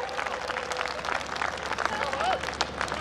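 Applause from an audience at a Hindi poetry reading, a steady dense patter of clapping sustained throughout with a voice faintly audible over it.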